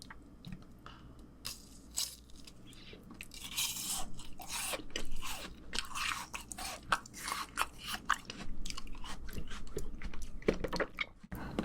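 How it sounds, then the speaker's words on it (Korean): Pink Jaws Bar ice cream being bitten and chewed up close, with a steady run of crisp icy crunches and bites, some sharp and loud, continuing without pause and with no talking. "조스바 핑크는 처음 먹어보는데 한번 먹어볼게요."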